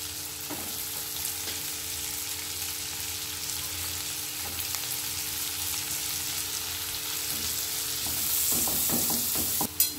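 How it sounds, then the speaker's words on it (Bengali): Chopped onions fry in a pan for a creamy white sauce pasta, a steady close sizzle running throughout with a few soft stirring knocks near the end and no talking. "এর মধ্যে আমি পেঁয়াজ কুচিগুলো দিয়ে দিচ্ছি"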